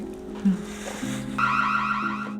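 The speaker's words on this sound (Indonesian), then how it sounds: "Tiba-tiba sirene alarm berbunyi, di mana Evan telah menyusup ke rumah Simon" An electronic alarm siren starts up, a wavering high-pitched tone sounding loudly over a steady low hum, after a brief thump.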